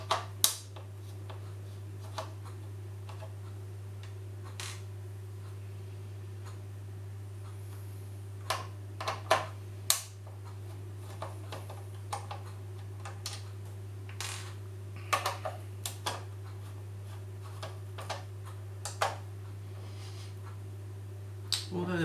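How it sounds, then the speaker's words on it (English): Screws being removed from a Neo Geo CD console's controller board, heard as faint scattered clicks and ticks of a screwdriver and small metal parts over a steady electrical hum, spread across a long stretch with no talking. "there's several screws on this that need to come out as well."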